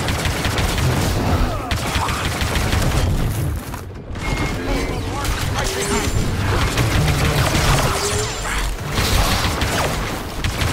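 Suppressive blaster fire in Star Wars Battlefront 2 crackles in dense, continuous volleys with mechanical clanks and booms, loud throughout the battle, with a voice shouting over it.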